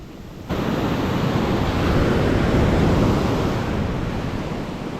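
Large sea waves break and surge along the shore during a lure-fishing trip, a loud continuous roar of surf mixed with wind buffeting the microphone, swelling in the middle and easing slightly toward the end.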